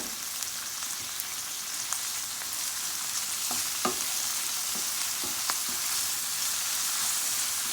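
Fresh ingredients and pepper get stirred into hot sizzling oil in a pan while stew fish is made, a steady close frying hiss broken by a few soft scraping clicks from the stirring.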